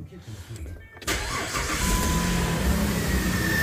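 A 2008 Jeep Grand Cherokee 4.7-litre engine cranks and catches at about one second, then settles into a steady, loud idle with a faint high alternator whine running over the rumble.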